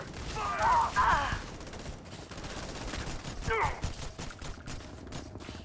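Gunfire in the sci-fi video game Starfield: a dense burst of rapid shots near the start, a quieter flurry around the middle, then sporadic faint pops over a steady background.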